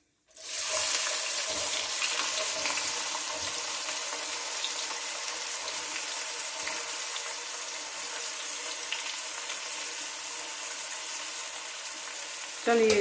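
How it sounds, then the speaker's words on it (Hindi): Onions sizzle loudly in hot oil left from frying okra, a dense, continuous crackling hiss that holds steady and close for the whole stretch, with a brief clatter at the very end. "जिस ऑयल में हमने भिंडी फ्राई की है उसी में अब हमने ये प्याज डाल देना है।"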